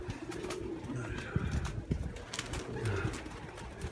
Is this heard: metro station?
no